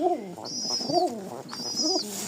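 Pigeons coo softly, two rising-and-falling calls repeating, with a thin high whistling tone between them over a quiet background.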